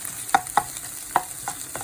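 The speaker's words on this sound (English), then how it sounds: "stage for frying onions, garlic, ginger and green chilies paste" Onion, garlic, ginger and green chili paste being stirred in butter ghee for a fish curry, with a few distinct scraping stir strokes over a soft sizzle, close and moderately loud.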